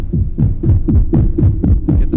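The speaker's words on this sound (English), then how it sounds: "Let's make some thump here now." A Roland FA-08 keyboard plays a thumping synth bass, a string of deep, punchy notes struck in a steady repeating rhythm, loud and close with no talk.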